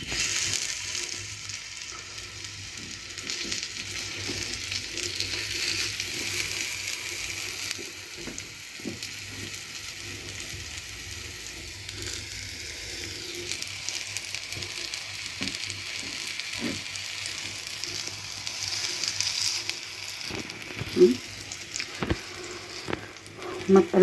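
Chicken kofta sizzles and fries steadily in a pan, a continuous hissing crackle that holds throughout with a few small pops and handling knocks near the end, no voices.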